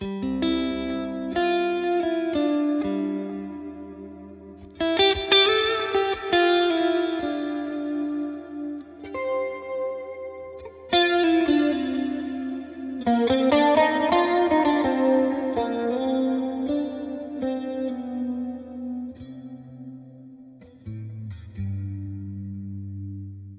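Electric guitar notes and chords ring out through a Line 6 HX dynamic plate reverb, tails lingering and swelling between phrases, no voices present.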